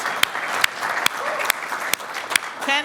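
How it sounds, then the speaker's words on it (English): Applause at a university pitch competition for a professor named Professor of the Year: a room of people clapping steadily with a few sharp, louder claps standing out, and faint voices beneath. "Let's give them applause."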